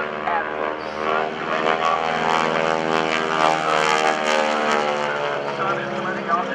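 An aerobatic propeller airplane flies at the NAS Oceana airshow, a loud, sustained engine drone with steady propeller buzz and shifting pitch, while an announcer talks over it.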